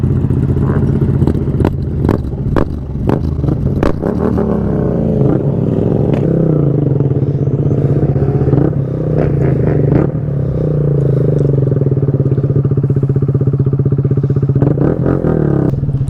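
A motorcycle doing wheelies on the street, its engine droning loud and close with a steady low rumble, some rising revs and rattling clatter throughout.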